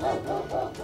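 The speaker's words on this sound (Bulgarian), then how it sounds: "За сега има само куче." A dog barks in a village in Bulgaria, giving three or four rhythmic, somewhat distant woofs in under a second at moderate volume, with no talking over them.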